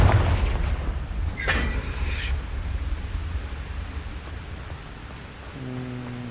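In the Hogwarts Legacy video game, a Confringo explosive spell goes off as a single dull boom near the start, followed by a fading rumble and a few faint crackles.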